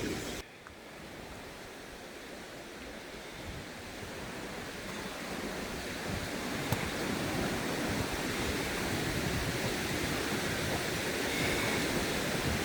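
A river rushes through woodland in North Devon, near Watersmeet, its steady broadband roar of flowing water filling the scene continuously and growing slightly louder toward the end, with no voices.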